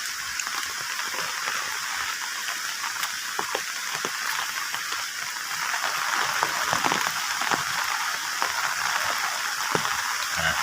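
Steady rain with wind in a rural village in Trenggalek, a constant broadband hiss of falling water with occasional sharper drops, growing slightly heavier after the midpoint.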